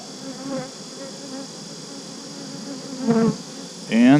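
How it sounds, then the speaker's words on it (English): Bees buzz around an outdoor hive frame on a cloudy day, a close, continuous drone with a few louder passes as single bees fly near, alone without talk. "we got quite a few bees here"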